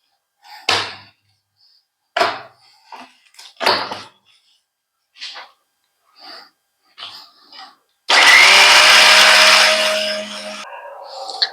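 Several dull knocks and clunks come first, then a blender grinding garlic cloves into paste for tomato achar bursts on as a loud, dense whirring roar for a few seconds before cutting off.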